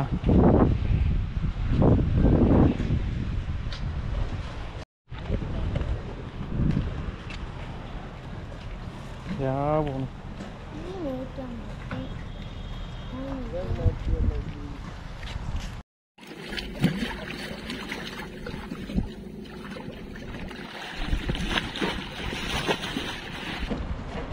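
A boat motor rumbles amid wind and sea noise off Agatti, Lakshadweep, with people talking over it and a few brief cuts in the sound.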